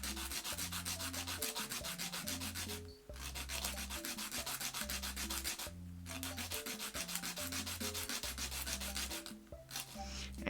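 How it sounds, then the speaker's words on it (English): Wooden sticks being ground into lace-making bobbins, giving a steady, close rasping grind that stops briefly three times, with a sustained tonal hum underneath and no talking. "But we've got a lot of sticks to grind."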